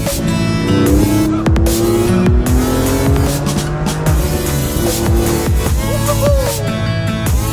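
A 2002 Porsche 911 Carrera engine roars loudly, revving up and down through gears with tire squeal, close and continuous throughout.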